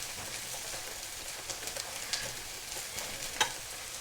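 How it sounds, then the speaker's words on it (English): Potatoes sizzle and crackle in hot oil in a roasting pan as they are stirred and tossed, making a steady bright hiss with scattered pops and scraping clicks and no talking. "Those potatoes are already sizzling away"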